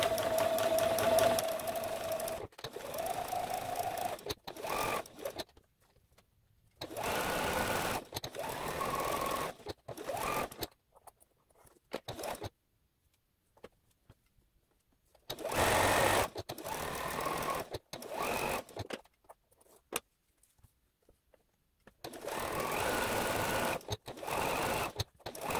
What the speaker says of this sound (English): Let's get sewing.